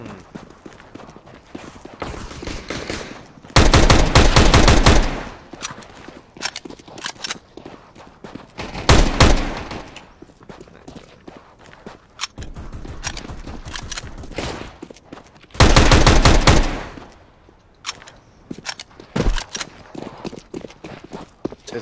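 Gunfire in Counter-Strike: Global Offensive during a competitive match, with several loud broadband bursts of shots separated by quieter stretches of game noise.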